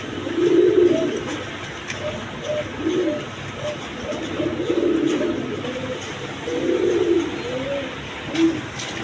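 Pigeons coo repeatedly at a market stall selling pigeons, including a blue-checkered hen, the soft rolling calls rising and falling in steady clusters over a faint crowd murmur, fairly close and continuous throughout.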